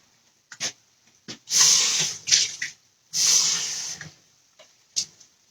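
Water poured into a pot of cooking grits for shrimp and grits, two sustained hissy pours of a few seconds each with short splashes between, close and fairly loud.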